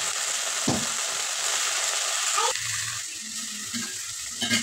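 Fenugreek leaves go into a pan of browned onions over lowered heat, a close sizzle with stirring clatter and scraping, the frying hiss shifting as the greens are tossed.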